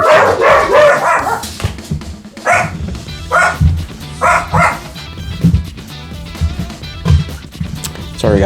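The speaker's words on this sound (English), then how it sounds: "the dogs went nuts" Several dogs bark loudly and repeatedly at someone at the door of a home, with bursts of barking and yips spread across the whole stretch and a little background voice.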